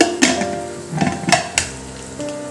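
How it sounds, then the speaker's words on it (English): Bone broth for dogs being stirred in a pressure cooker, a few sharp metallic scrapes and clinks of a spoon against the pot at an uneven rhythm, close and clear with no talk. "I'm just going to mix this"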